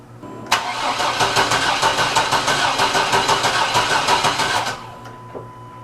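A Chevrolet Astro van with a crank-no-start fault cranks steadily for about four seconds, a loud, close, rhythmic chugging of the starter turning the engine over without it catching, then cutting off.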